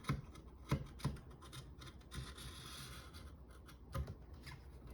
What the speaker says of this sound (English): that's where the deburring tool really shines